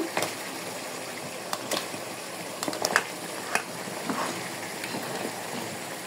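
Beef with fresh homegrown bottle gourd is stirred and fried in a pot, a soft steady sizzle broken by occasional faint scrapes and clinks of the spoon, quiet and close.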